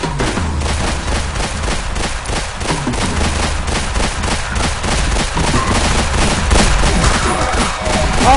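Continuous rapid gunfire from the multiplayer game Plazma Burst 2, loud dense shots rattling steadily throughout with no pauses.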